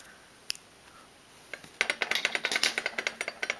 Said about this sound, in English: Now I'm going to take my nail scissors